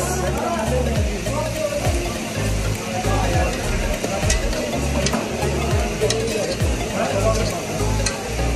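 Fried chicken kare-kare is stirred in a pan, steady sizzling and scraping with rhythmic low thumps from the mixing, close and fairly loud throughout.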